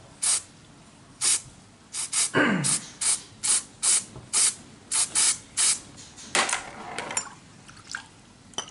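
Cleaner sprayed onto the carburetor of a Suzuki Katana car comes in a dozen or so short, hissing bursts at a quick, uneven rhythm, close and loud.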